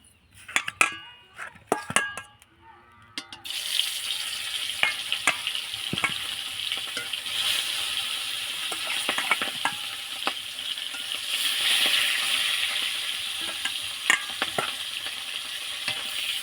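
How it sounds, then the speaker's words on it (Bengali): Bhola fish frying in a pan, a steady loud sizzle with crackling pops and occasional utensil clinks, starting after a few seconds of clattering handling noises. "মাছ ভাজা হয়ে গেছে"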